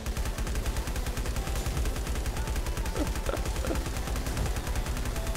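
Rapid automatic gunfire in the mobile game LifeAfter, aimed at the spider boss in a bug nest, fills the whole stretch as a dense, steady rattle of shots without pause.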